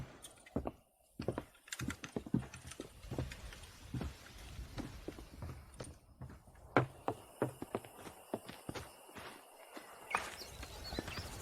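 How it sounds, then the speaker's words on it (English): Horse hooves clip-clop in the video game Red Dead Redemption, an uneven run of crisp, close hoofbeats that builds and thins with the horse's pace, with no talk over it. "Let's see if we can't wrangle some horses."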